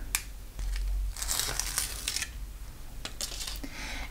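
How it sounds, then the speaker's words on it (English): Paper backing is peeled off Fabri-Solvy stabilizer close up, with crinkly crackling bursts and rustles in several separate pulls. "Once you have your design traced, you will peel off the paper backing."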